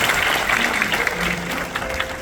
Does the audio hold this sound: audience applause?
yes